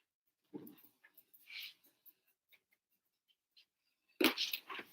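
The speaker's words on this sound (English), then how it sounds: "Sorry, I have a dog." A pet dog whimpers indoors during a home livestream lesson with a few faint, short whines and a louder burst of whining near the end.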